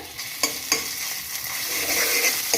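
Coarsely ground ginger and green chili paste fries in oil for a vegetable soup, giving a steady close sizzle broken by a few sharp scrapes of a spoon stirring the pan.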